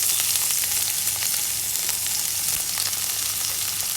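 Ginger, garlic and curry leaves sautéing in hot oil in a pan give a steady, bright sizzle and crackle that holds evenly throughout, close and alone without any talking.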